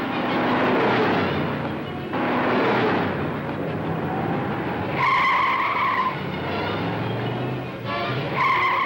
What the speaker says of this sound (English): Very few Sunday drivers deliberately smash into bumps and take the kind of pounding that can throw a 2-ton car into the air.